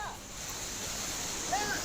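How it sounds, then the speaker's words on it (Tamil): The flooded Courtallam waterfall gives off a steady, broad rushing roar of heavy falling water. Brief whistle-like tones cut through near the start and end. "குற்றால அருவிகளில் வெள்ளப்பெருக்கானது ஏற்பட்டிருக்கின்றது"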